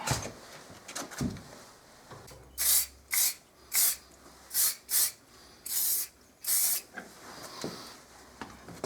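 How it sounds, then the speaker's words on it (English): Seven short, loud hissing bursts of anti-seize spray onto a van's front brake hub, in a steady rhythm, two slightly longer, over a low background hum with a few clanks beforehand. "Let's get the anti-seize to spray on that."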